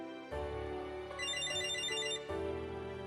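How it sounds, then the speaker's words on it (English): Electronic ringtone in the VR dating game Date A Live: Arusu Install, a repeating melodic trill of bright tones ringing for about three seconds, alone and fairly clear. "I already have a bad feeling hearing the phone ring like this"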